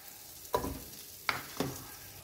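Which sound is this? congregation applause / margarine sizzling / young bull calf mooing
margarine sizzling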